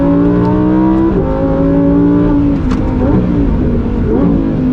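A 2023 Lamborghini Huracan Tecnica engine revs hard and loud under throttle out of a corner, its harmonic tone climbing steadily with brief dips at gear changes across the run.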